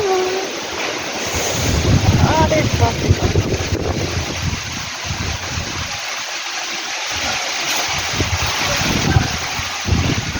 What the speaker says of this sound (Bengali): পাগলা করে দেবে একদম পাগল হাওয়া